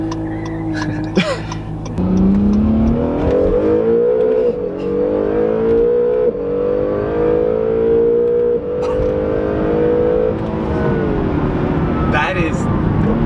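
A hybrid supercar accelerates hard, its engine and electric motors rising in a loud, smooth, continuous climb with a brief shift, heard from inside the cabin while people talk over it.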